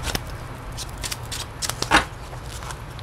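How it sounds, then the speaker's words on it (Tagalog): Tarot cards being shuffled by hand, a steady run of soft riffling and flicking with a few sharper snaps, close and clear with no talking. "balasahin natin ng maayos"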